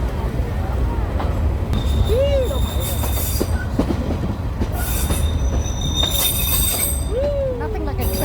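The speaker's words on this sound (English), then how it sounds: "Nothing like a train journey to get you back into your childhood." A passenger train in Dalat rolls along the tracks, with steady rumbling and clatter from inside the carriage and several rising and falling wheel squeals, while faint voices talk in the background.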